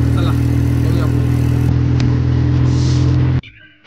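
A CNG auto rickshaw drives on the Mumbai–Goa road, its engine a loud, steady droning hum close by with wind rustle over it, cutting off abruptly near the end.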